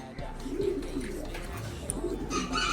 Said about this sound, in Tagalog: Dami nating ibon, no? Puro bagong ibon yan.